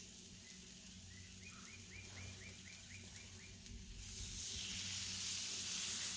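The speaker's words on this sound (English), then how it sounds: "This is good and hot. Let's toss our steaks on." Quiet background chirps give way to a sudden, loud, steady sizzle as steaks hit a hot flat-top griddle and keep searing.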